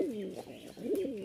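A pair of Jharna shatting pigeons coo close by in soft, throaty rolling calls, two swelling phrases in quick succession.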